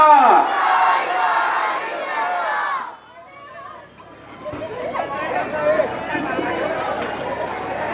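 A rally crowd shouts a Takbir slogan chant in loud bursts, voices massed and echoing, with a short lull before the chanting and babble rise again.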